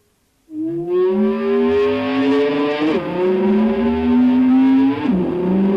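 Electric guitar whammy bar dive with a volume swell: a note fades in from silence, then bends and wavers up and down in pitch with two sharp dips, sounding like a revving engine.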